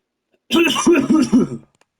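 A person coughs four times in quick succession, each one a short, loud, voiced bark close to the microphone, with silence before and after.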